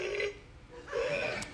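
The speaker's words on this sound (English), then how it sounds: "So it dances, it burps and farts on Christmas Day." A toy robot plays an electronic burp sound, two swelling bursts separated by a short dip, fairly quiet and alone with no talking.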